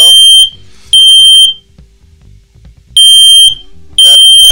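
Three loud bursts from a smoke alarm under test, each a piercing, shrill electronic beep lasting about half a second, separated by quieter gaps with faint room noise and a person talking softly.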